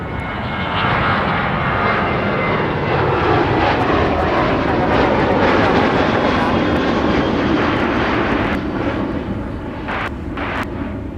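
Southwest airliner at Minneapolis–St. Paul Airport, its jet engines roaring loud and steady close by, the rumble swelling and then easing slightly toward the end.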